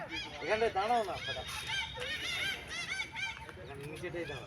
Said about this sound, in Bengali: পাখির আওয়াজ শোনা যাচ্ছে আপনারাও শুনতে পাচ্ছেন